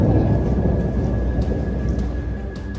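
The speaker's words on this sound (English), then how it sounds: "As that storm dug south, thunder snow in Arizona." Thunder rumbles low and heavy through a thundersnow storm in Arizona, a loud, sustained roll with a hiss of precipitation beneath it and no voices.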